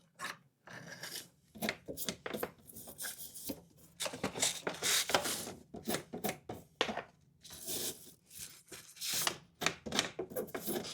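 A handheld cleaning tool scrapes and rubs through refrigerator condenser coils at close range, a steady run of rough, raspy strokes with brief pauses between bursts.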